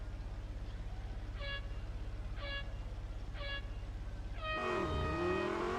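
A Lamborghini Sesto Elemento idles with a low droning engine in Real Racing 3 while three evenly spaced countdown beeps sound. Then the engine surges into a loud, rising roar as it launches into an autocross at the Circuit of the Americas.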